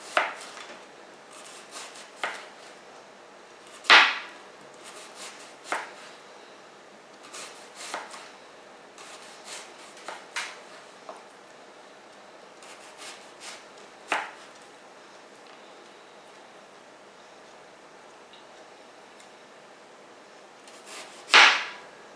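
A knife slices an onion thinly on a cutting board, giving scattered sharp taps and cuts at an irregular pace. The sounds are mostly quiet, with a few louder strikes in a calm room.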